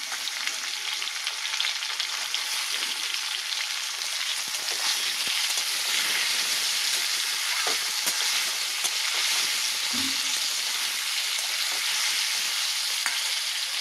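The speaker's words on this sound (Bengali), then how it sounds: "সিদ্ধ করা ওলগুলো হচ্ছে আলুর সাথে ভাজা ভাজা করবো" Potatoes and boiled elephant foot yam frying in a pan, giving a steady, even sizzle with occasional soft stirring scrapes, close and moderately loud, with no talking.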